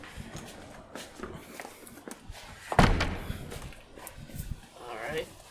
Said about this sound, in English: I'll lock the door as we go out.